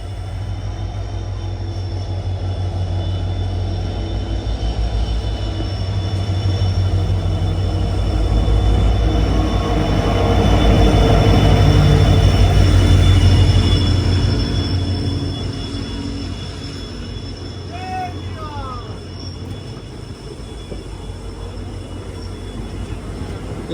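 Express train from Rangiya to Silchar passing through a station, a steady rumbling roar that swells to a peak midway and then slowly fades, with faint squeals near the end.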